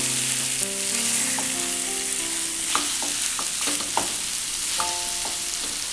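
Onions frying and being stirred in a pan for a chicken roast, a steady close sizzle with scattered scraping clinks of the spoon against the pan throughout.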